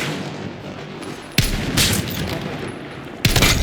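Gunfire in an online shooter video game: a sharp, loud burst cracks out, then a second blast a couple of seconds later over steady background game noise.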